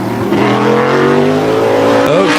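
Modified race car number 9 laps the Wall Stadium oval during qualifying. Its engine gives a loud, sustained rising drone with changing harmonics, and a tire squeal cuts in near the end as it nears the corner.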